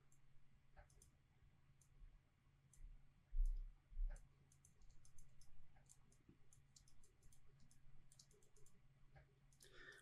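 Computer mouse clicks while working in Photoshop, a quiet scattered series of sharp close ticks with a soft low background hum, some clicks coming in quick pairs and bursts.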